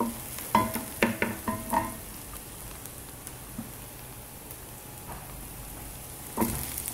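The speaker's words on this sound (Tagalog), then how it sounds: "Using the same pan, magsusutainan tayo ng bawang at sibuyas" Garlic and onion sizzle quietly in a frying pan while a utensil clinks and scrapes in a short burst of stirring, then the soft frying hiss carries on alone with one more clatter near the end.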